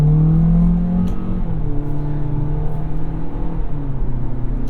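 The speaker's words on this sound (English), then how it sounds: "it's simulating some gear changes. The first gear change was real, and then it simulates the rest" 2022 Toyota Corolla Cross with a CVT accelerating, the engine note climbing then dropping in steps as it simulates gear changes, steady and fairly loud inside the cabin.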